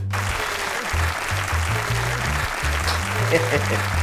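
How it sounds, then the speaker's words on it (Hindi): A lone man claps for himself on a mock podcast set. A continuous clattering wash of clapping runs under a voice talking steadily over it for the whole stretch. "खुद ही तालियां पीटे जा रहा है।"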